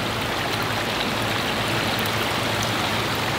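Water pours steadily through a large Bakki shower filter on a koi pond, a dense, even rushing splash close by with no talking.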